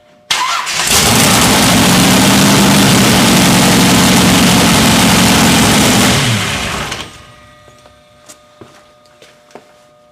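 An engine cranks and catches during a filtration demonstration, then runs loudly at a steady idle for several seconds before cutting off, leaving quiet with a few scattered clicks.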